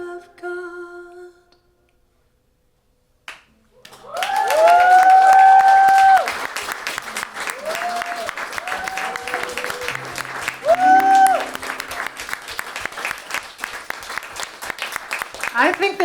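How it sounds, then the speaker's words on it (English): After a brief quiet, applause breaks out at a live solo piano show at Union Pool, loud at first and then continuing steadily while voices call out and talk over it. "that was an applause of recognition for sure"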